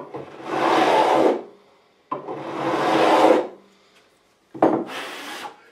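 Metal file drawn across guitar fret ends to bevel them during a complete re-fret, three long, close, steady rasping strokes in one direction separated by brief pauses, with no talk.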